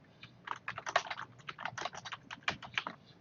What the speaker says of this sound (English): So I'm just going to go ahead and type in name